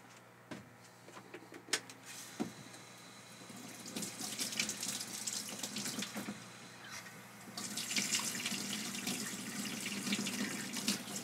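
Hot water running from a sink tap while hands are washed before black-and-white large format film developing, a steady close splashing flow with a few knocks and shifts in the stream, no talking.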